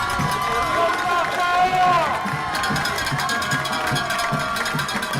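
Crowd at a high school football game between Poteau and Sallisaw, a broad roar of fans and cheering in the stands under a commentator speaking over the noise.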